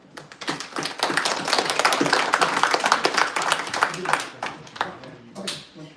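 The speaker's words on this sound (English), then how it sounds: "And so I do give a warm round of applause to the presentation from Brett." Applause from a hackathon audience for a presentation, a burst of clapping that rises quickly, holds for a few seconds, then thins out and fades away.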